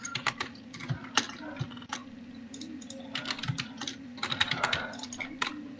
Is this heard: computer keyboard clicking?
yes